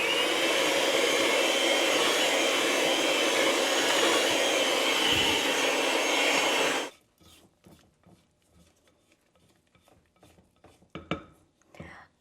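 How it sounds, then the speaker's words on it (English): Pumpkin sheet cake batter being mixed, gluten free: a loud, steady whirring for several seconds that suddenly stops, followed by faint, sparse clinks and taps of utensils. "Now, I'm going to mix this up gently because that is all you need."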